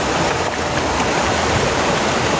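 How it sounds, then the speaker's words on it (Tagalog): A strong river current rushes loudly and steadily, a dense continuous roar of flowing water close by. "Kasi ang lakas ng tubig."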